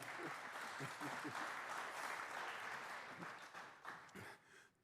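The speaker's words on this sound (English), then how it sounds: "Let's give a round of applause, ladies and gentlemen" An audience applauds at a cultural and musical reconciliation showcase in Saskatoon, a steady, dense wash of clapping filling the room for several seconds before tapering off at the end.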